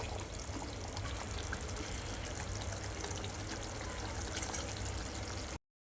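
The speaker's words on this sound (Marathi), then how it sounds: "पाणी टाकूया" Water splashing into a pan of chicken masala as a steady, faint, continuous pour and hiss that runs several seconds without a voice, then cuts off abruptly.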